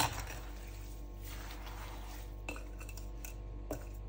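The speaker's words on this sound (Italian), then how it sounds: "Mescoliamo per bene." Lemons and sugar for lemon jam being stirred in a pot, with a steady faint scraping and a couple of soft clinks of the utensil against the pot.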